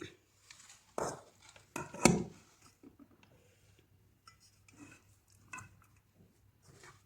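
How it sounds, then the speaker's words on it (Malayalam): Chopped ingredients are mixed into sardines for fish peera, with a few close clatters and knocks of a utensil against a bowl in the first couple of seconds, then quieter sporadic scraping and soft taps. "ഇതെല്ലാം കൂടെ നമുക്കൊന്ന് നന്നായിട്ട് നേരടി മിക്സ് ചെയ്യാം ഈ മീനിനകത്തോട്ട്"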